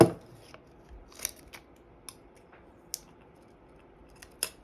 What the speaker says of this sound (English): So we're going to get some little cuts so we can get some more flexibility in this transfer paper